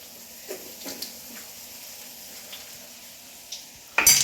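Mustard seeds crackle and pop in hot oil in a home kitchen: sparse, sharp pops over a low sizzle, ending in a sudden, louder burst of spattering.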